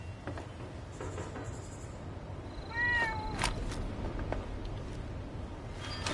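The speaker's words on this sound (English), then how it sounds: "I don't really want to shoot the cat though." A cat meows once in the Fallout 76 video game, a short rising and falling call over low game ambience with faint clicks and ticks around it.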